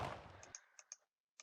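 An explosion sound effect from a Scratch space-shooter game: a brief, quiet burst of noise that cuts off abruptly, followed by a few faint, sharp clicks with short gaps between them.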